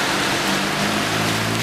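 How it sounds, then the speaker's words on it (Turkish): Heavy rain shower pouring down in the Edremit Gulf of the northern Aegean, a steady dense hiss of falling water filling the short stretch with no voices. "Kuzey Ege etkisi altına alan sağanak yağmur öğlen saatlerinde Edremit Körfezi'nde de etkili oldu."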